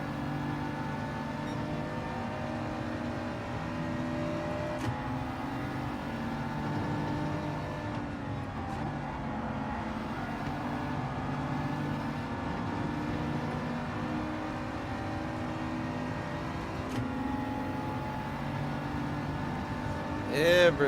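McLaren race cars in Gran Turismo 7 drone steadily with a constant layered engine hum, no sharp passes or gear changes, holding an even level throughout and rising in a brief burst at the very end.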